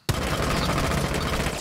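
Rapid gunfire from a rifle during a recoil test in Rainbow Six Siege, a loud, dense burst of shots that starts abruptly and continues steadily, close and alone with no talking.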